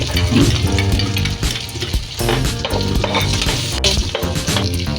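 Ginger and garlic frying in a pan for pinakbet, a busy, continuous sizzle with stirring clatter running throughout, loud and close, with no talking.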